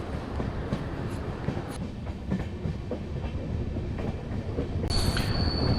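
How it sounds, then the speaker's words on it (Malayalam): A train grinding up a winding, steep mountain pass over the Sahyadri range, its steady loud rumble of wheels and wagons running continuously, with a brief high wheel squeal near the end. "വളവും തിരിവും കയറ്റങ്ങളും താണ്ടിയിട്ടാണ് ഈ ട്രെയിന് പോയിക്കൊണ്ടിരിക്കുന്നത്."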